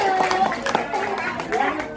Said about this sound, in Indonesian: ayo tepuk tangan buat aja